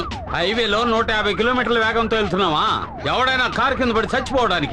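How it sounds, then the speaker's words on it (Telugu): A siren fitted to a car on a highway wails continuously in loud, rising and falling sweeps, with someone talking over it throughout. "సైరన్ సౌండ్ అండి."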